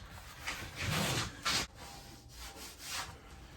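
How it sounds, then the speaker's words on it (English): Sandpaper rubbing on a curved wooden kitchen piece in a few soft, short back-and-forth strokes, quiet and close. "I think the best thing to do there is to sand it"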